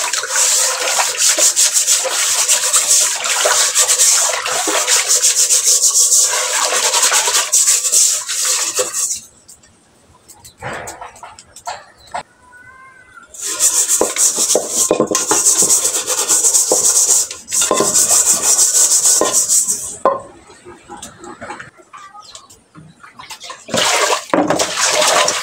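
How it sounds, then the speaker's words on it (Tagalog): Scrubbing and washing a cooking pot with a cleaning pad: loud, steady rasping scrubs in long bursts, broken by short pauses with splashing and rinsing, close up and with no talk over it. "hugasan muna natin yung kaldero para magpakulo muna tayo"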